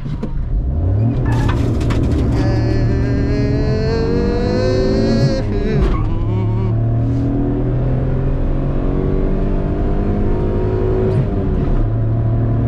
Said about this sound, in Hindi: बहुत ज़्यादा इंजन की आवाज़ आ रही है।